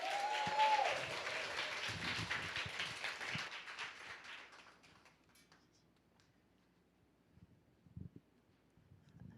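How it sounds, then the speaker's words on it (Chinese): Applause rings out through a church service as a speaker is welcomed to the front, a dense burst of clapping that fades away after about four seconds, leaving near-silence broken by a few faint thumps. "热烈掌声欢迎名家"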